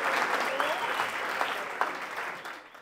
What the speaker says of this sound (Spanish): Un aplauso fuerte para ella